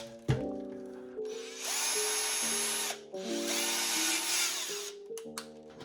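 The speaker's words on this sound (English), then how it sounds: "with your 1/4 inch drill bit, we're gonna center it and drill all the way through" A power drill with a 1/4 inch bit spins up close and drills through a workpiece in two sustained bursts, with the motor whining steadily and short stops and restarts in between.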